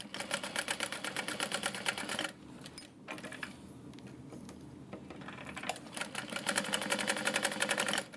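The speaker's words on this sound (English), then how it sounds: "Top stitching on either side" A sewing machine top stitching a tote bag, rapid rhythmic mechanical clatter in bursts with a brief quieter pause midway before stitching resumes, close and without talk.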